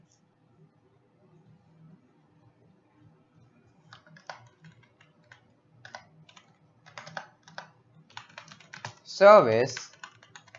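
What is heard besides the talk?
typing on a computer keyboard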